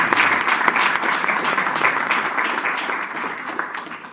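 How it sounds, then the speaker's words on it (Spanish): Audience applause at a Spanish-language cultural event, a dense, steady wash of clapping from a large crowd that holds strong for the whole stretch with little fading. "pido un aplauso muy fuerte"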